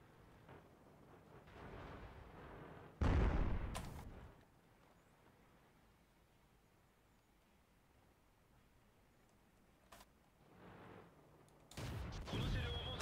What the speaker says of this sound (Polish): Zobaczcie, co się dzieje, jak artyleria szaleje.